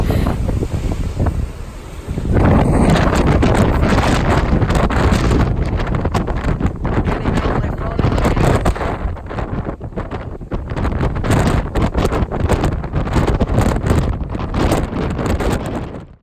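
Strong wind on a motorcycle ride in Patagonia roaring and buffeting the microphone, loud and gusty, with rushing turbulence that swells after a brief lull at the start.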